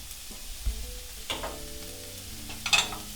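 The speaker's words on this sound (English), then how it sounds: "We're going to go ahead and saute up the onions for about a minute or so" Onions sautéing in olive oil in a pan, a soft close sizzle broken by a few stirring scrapes and clatters, with a faint tonal hum running underneath.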